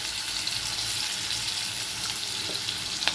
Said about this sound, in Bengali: আলুটাকে আমি একটু ভাজবো।